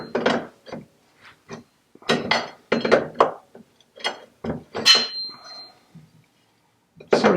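A bolt being unscrewed on a Citroen 2CV suspension, giving repeated short ratcheting clicks and metallic creaks in uneven bursts, close and fairly loud, with a thin squeak partway through and no speech.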